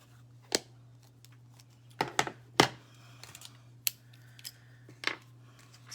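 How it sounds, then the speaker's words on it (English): Scissors cutting through card stock while making a penguin greeting card, a series of sharp, close snips spread irregularly over several seconds against a steady low hum, with no talking. "That's okay because we're cutting it off."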